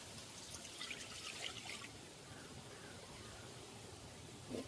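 Water trickling and pouring into a cooking pan while sugar syrup is being prepared for a sweet, a steady soft stream that is quiet and continuous with a small splash near the end.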